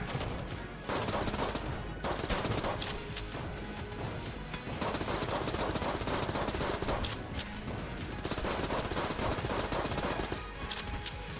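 Heavy, sustained gunfire from guns in the video game Enter the Gungeon: continuous rapid shots and crashing impacts that run without a break through the whole stretch, loud and dense, with no talking.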